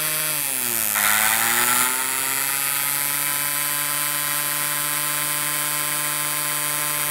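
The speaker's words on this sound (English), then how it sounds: "I guess you can tell by the sound of the motor that it runs faster when the diode is connected." An electric shunt motor with shorted coils and a diode connected runs with a steady tonal whine that dips briefly near the start, then climbs and holds a constant, slightly faster pitch.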